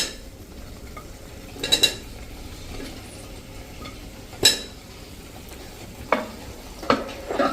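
Quartered onions fry in a pan, a soft sizzle running beneath several sharp metallic scrapes and clinks as a spoon stirs them against the metal.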